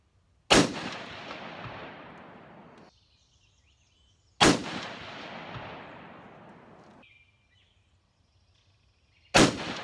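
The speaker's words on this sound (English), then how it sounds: "So I'll get all that done and we'll run some shots." Three sharp rifle shots are fired over a chronograph outdoors, each a loud close crack trailing into a long fading echo, spaced a few seconds apart with quiet between them and no talking.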